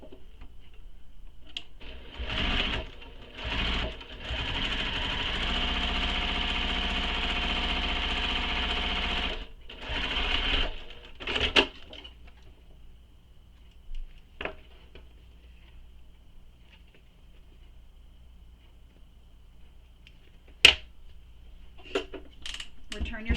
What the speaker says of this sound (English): And then go ahead and top stitch this.